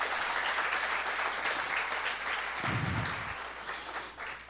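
Congregation applause during a Spanish-language church sermon, a dense, even roar of many hands clapping that holds steady and then begins to thin toward the end, heard alone without talk.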